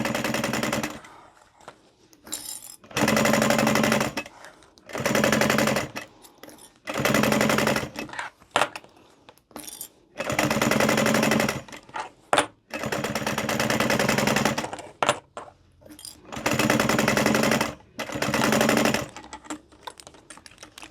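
Sewing machine stitching around the edge of a DIY lanyard: rapid mechanical chattering in repeated bursts of one to three seconds, separated by short pauses as the work is stopped and repositioned, close and fairly loud, with no speech.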